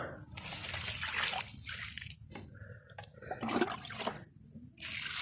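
Liquid is poured onto elephant foot yam plants in a garden bed, producing a splashy, sloshing stream with a few short pauses and some faint background noise.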